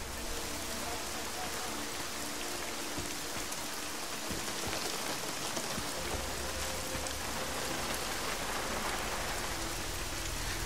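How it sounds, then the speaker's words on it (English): Steady rain falls in Deus Ex: Mankind Divided, a dense, even hiss of drops on surfaces that runs unbroken from start to end, with faint low hum and indistinct voices beneath it. "Yeah, that rain is nice."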